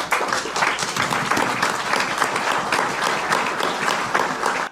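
Applause rises in a court session, a dense, even wash of many hands clapping at once, loud and continuous from start to finish with no voices standing out.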